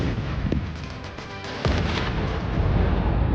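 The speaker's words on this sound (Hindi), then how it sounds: "Внимание! Выстрел!" Gunfire or artillery in the Russia-Ukraine war, with a couple of sharp reports early and a heavy boom near the middle, over continuous loud rumbling battlefield noise.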